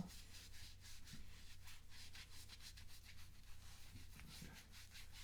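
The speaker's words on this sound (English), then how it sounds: "Rub this shoulder too." Hands rub steadily over a shoulder in an ASMR massage, a soft continuous brushing friction with rhythmic strokes, close and quiet with no talking.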